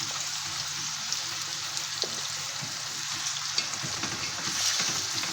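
Onions frying in a pan until browned and nearly burnt for sayadieh rice, giving a soft, steady sizzle with faint crackles and pops throughout, fairly quiet with no talking.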